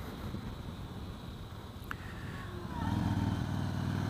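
A small-displacement, rubber-mounted motorcycle engine of about 40 horsepower on a demo ride at a trade show, droning steadily under wind noise and swelling louder near the end.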